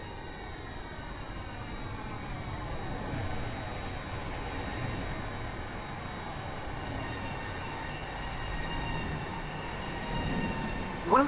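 A Class 801 train at Stepford station rumbles steadily with a broad, continuous mechanical drone and a rising whine, holding at a fairly even level throughout before a brief louder burst at the very end.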